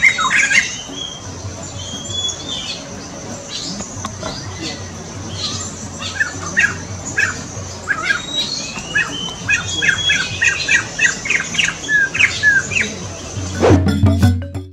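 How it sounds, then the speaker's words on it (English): A Sumatran laughingthrush, also called black and white laughingthrush, calls in a rapid series of sharp squawks and chirps over steady background noise, fairly close, ending in a louder burst. "this bird is called Sumatran Laughingthrush or Black and White Laughingthrush"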